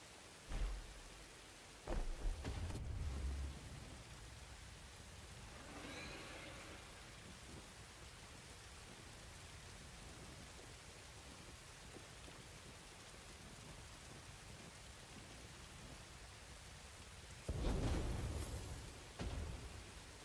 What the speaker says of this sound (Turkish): Ama abi orada da yağmur yağıyor.